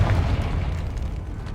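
A Confringo fire spell in Hogwarts Legacy bursts into a deep, booming explosion that rumbles loudly at the start and then fades away over about a second and a half.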